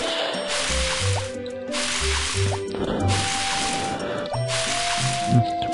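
Water splashes and drips from a watering can in the Harvest Moon: Back to Nature farming game, repeating in about four short bursts over light in-game music.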